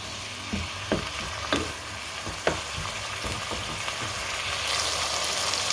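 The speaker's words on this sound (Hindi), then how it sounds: "इनको अच्छे से मिक्स कर देंगे।" An onion and tomato masala with chilli and coriander powder sizzles in a pan as it is stirred, close and fairly loud, with a few sharp scrapes early on and a rising, steady fry toward the end.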